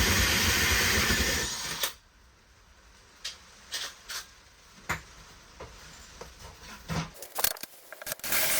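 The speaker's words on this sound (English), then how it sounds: "I then swap the drill for the hole drill, which is 72 mil, and put the holes in for the spotlight." A drill fitted with a 72 mm hole saw runs loud at first, cutting holes for garage spotlights, then stops abruptly, followed by a series of sharp knocks and handling clatters.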